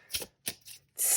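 Tarot cards are shuffled in a few quick riffling bursts, soft close-up flutters separated by short pauses, with a final louder shuffle at the end.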